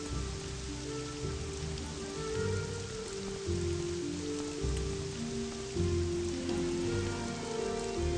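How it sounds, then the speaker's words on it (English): Rain pattering steadily in the game Morrowind, a continuous hiss of drops on surfaces under a low background hum, moderately loud and unbroken for several seconds, with no talk. "this is quite bad rain, but at least it's not ash, right?"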